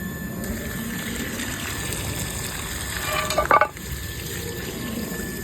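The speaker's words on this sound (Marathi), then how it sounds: "तो पाणी फिल्टर केला आणि टाकी पण भरले" Water runs steadily into a storage tank with a constant rushing hiss, joined briefly by a sharper splashing burst near the end.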